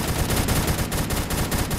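A light machine gun in the Phantom Forces video game fires a rapid, continuous burst of shots, loud and close, for about two seconds.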